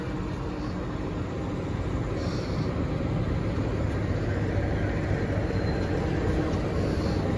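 Bengawan economy class train running between Jogja and Jakarta, heard from inside a carriage as a loud, steady low rumble and rolling drone with no breaks.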